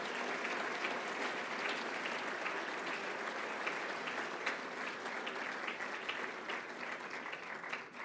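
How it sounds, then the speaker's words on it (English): Steady, sustained applause from an audience of a couple of hundred people at an evening awards event, dense even clapping filling the room without a break. "I think they deserve a round of applause for everything they've done."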